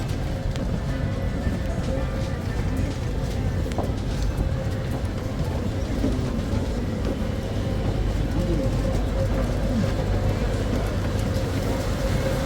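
Continuous low rumble and rattling of an underground MRT train in Thailand running along the tracks, loud and steady throughout, with faint squeals over the drone.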